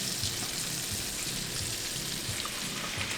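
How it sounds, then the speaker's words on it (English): Chicken wings fry in oil, sizzling and crackling steadily up close, a dense hiss of frying without pause or speech. "so the wings have been frying"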